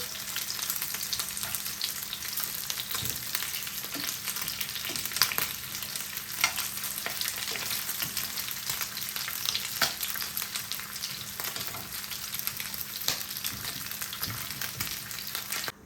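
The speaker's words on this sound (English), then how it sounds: "So we've now browned all this chicken" Chicken pieces browning in hot oil in a pan for a stew give off a steady, close sizzle with fine crackles and pops throughout, with no voices.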